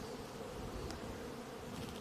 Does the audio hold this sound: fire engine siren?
no